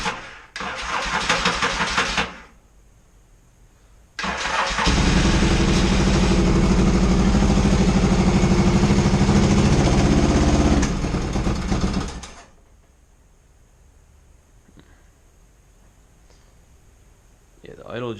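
A 1982 Yamaha XS650SJ motorcycle, undergoing fuel work and started without choke. A brief cranking burst is followed by a pause, then the engine catches and runs loudly and steadily for about eight seconds before shutting off, with voices nearby.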